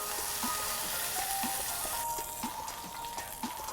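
Pork searing in a hot pan for pulled pork, a steady close sizzle and crackle with small pops and faint scraping throughout.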